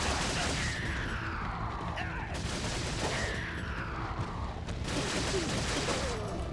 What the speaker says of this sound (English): now we're going to shoot the rest of these enemies with our TMP